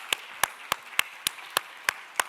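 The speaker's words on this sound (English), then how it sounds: "And a round of applause, I think, for the government of Botswana in this room for that." Eight sharp, evenly spaced claps ring out about every third of a second, crisp and moderately close in a conference room during a trade breakfast, with no talk over them.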